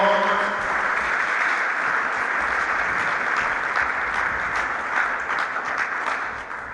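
A church congregation cheers and applauds loudly during a Sunday Advent service, a dense, sustained roar of clapping with scattered voices, close and full, slowly tapering toward the end.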